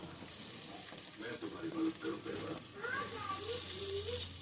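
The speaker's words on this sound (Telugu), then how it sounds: "ఆయిల్ హీట్ అయిన తర్వాత టూ స్పూన్స్ అల్లం వెల్లుల్లి పేస్ట్ అనేది వేసి త్వరగా వేయించుకోవాలి" Ginger garlic paste fries in hot oil, a quiet steady sizzle running throughout under a voice talking.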